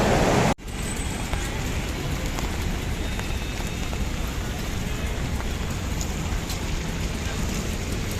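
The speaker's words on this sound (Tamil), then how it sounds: "ரொம்ப மழையாக இருக்குங்க" Heavy rain pours down steadily in Chennai in a dense, continuous hiss that stays loud and even throughout, after a brief sharp dip near the start.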